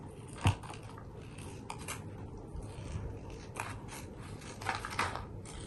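Paper being cut with scissors comes through as faint, scattered snips and crisp blade closes over a soft background hiss, with no one talking.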